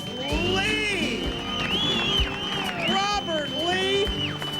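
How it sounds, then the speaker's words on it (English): An audience cheers and applauds for angler Robert Lee at a Bassmaster tournament weigh-in on the California Delta, a loud, steady crowd roar with whoops and shouts throughout, a voice carrying over it. "Give this guy a great big round of applause."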